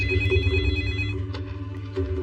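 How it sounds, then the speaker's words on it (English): An office telephone rings loudly up close with a sustained electronic trill, breaks off briefly, then starts another ring. "The phone rings in my office"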